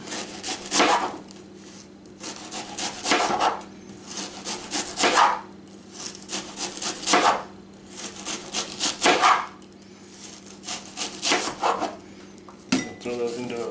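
A knife thinly slicing an onion on a wooden board, heard as repeated bursts of close, crisp cutting strokes in a steady rhythm with brief pauses between runs, and no talking over it.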